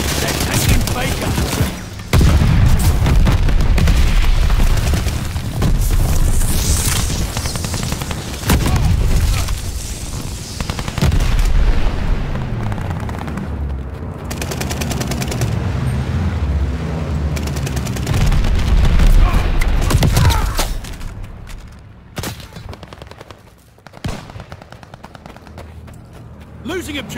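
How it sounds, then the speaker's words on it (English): Bombing run explosions in Call of Duty: Vanguard, a dense stretch of loud booms and gunfire rumbling for about twenty seconds before fading to sparser distant blasts, with voices faintly under the action. "Teammate called a bombing run."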